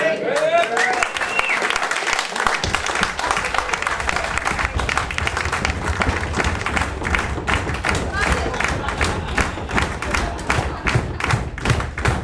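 Audience at a folk music concert clapping and stomping loudly and continuously, a dense, sustained roar of applause with heavy foot thuds, close and filling the room, with voices and cheers mixed in.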